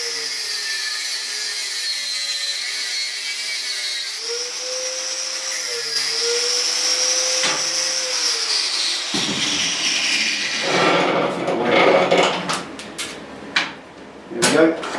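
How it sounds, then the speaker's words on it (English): An angle grinder cuts through a seized old bike chain in a garage, a loud high whine that shifts pitch as it bites, then dies away into clanks and rattles of metal near the end. "Get the grinder out."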